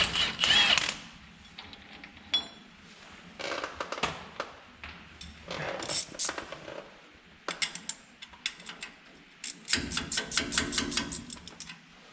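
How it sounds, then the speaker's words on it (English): Ratchet wrench cranking out the three unit bearing bolts on a Jeep TJ Dana 44 axle, with repeated clicking bursts, metallic clatter and pauses between rounds of turning, close and fairly loud, no talk. "we will take the 3 bolts out of the back of the unit bearing"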